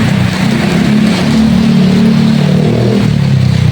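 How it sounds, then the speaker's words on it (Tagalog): Heavy rain pours in a dense, continuous hiss, with a low engine hum running underneath throughout. "Malakas po ng ulan dito mga kabisnes."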